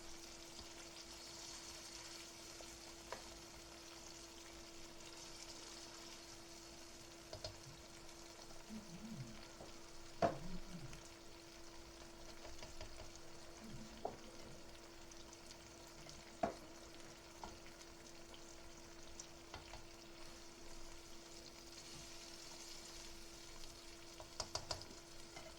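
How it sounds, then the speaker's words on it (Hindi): Marinated chicken fries in a pan with a quiet, steady sizzle. A spatula stirs and scrapes against the metal in scattered clinks, and a low hum runs underneath. "चिकन को जो है हम अच्छी तरह से 5 से 10 मिनट जो है हम अच्छी तरह से भूनेंगे"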